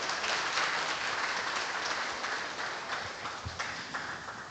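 Conference audience at the opening of an international law society meeting applauds, a soft, distant, even patter of many hands that slowly thins out.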